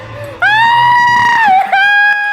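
A girl screams in a school setting: one loud, high-pitched cry held for about two seconds, wavering and dipping briefly near the end before carrying on.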